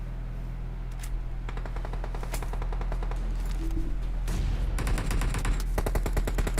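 Rapid gunfire from a PUBG Mobile match, bursts of automatic shots crackling in quick succession over a steady game background, growing denser and louder toward the end, with no talk.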